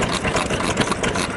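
A red First kerosene stationary engine, a rare Kubota-style model made by Kasaoka Kogyo and shown at a garage sale, runs steadily with a dense, even chugging throb, close and moderately loud.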